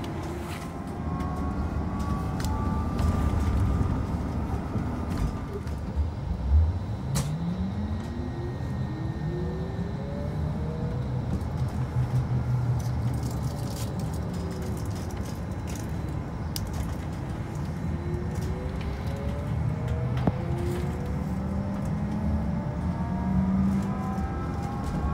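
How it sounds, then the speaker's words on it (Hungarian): A hydrogen fuel-cell bus on Budapest route 689 hums steadily from inside, with a trolleybus-like electric whine rising and falling in pitch as it accelerates and slows over a continuous road rumble. "És itt meghallgatjátok a busznak a hangját, akkor tulajdonképpen olyan hangja van, mint egy trollibusznak"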